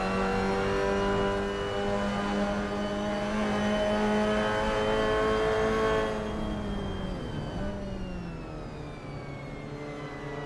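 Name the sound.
racing cars driving through the final turn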